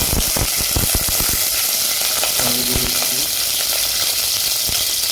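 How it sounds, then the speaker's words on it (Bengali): Dry red chilies, green chilies and garlic hit hot oil in a pan, giving a steady close sizzle with crackling bursts and spoon clatter in the first seconds, then a softer hiss. "অয়েল আমার হিট হয়ে গেছে তো প্রথমে আমি ড্রাই চিলি দিয়ে দিলাম গ্রিন চিলি এবং গার্লিক দিয়ে দিচ্ছি"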